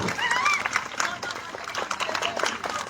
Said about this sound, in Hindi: बिल्कुल सर का वेलकम करेंगे जोरदार ताली बजों के साथ।